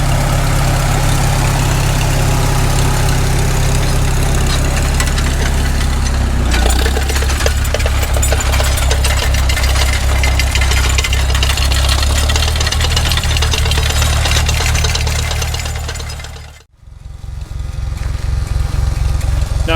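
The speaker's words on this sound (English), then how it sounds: "Senior's going to do some subsoiling today with the Super M." An old Farmall Super M tractor engine, pulling a subsoil plow, chugs loudly and steadily at close range, its knocking beat changing tone partway through, before it cuts out briefly and starts running again.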